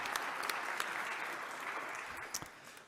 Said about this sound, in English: If we could give Ava a round of applause.